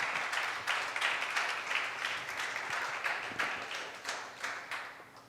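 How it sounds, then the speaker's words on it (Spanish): Church congregation clapping for the Lord during a sermon, fairly quiet scattered applause with distinct individual claps over a low hum, fading toward the end. "Dale un aplauso al Señor si usted tiene esa convicción."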